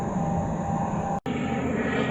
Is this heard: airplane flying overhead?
yes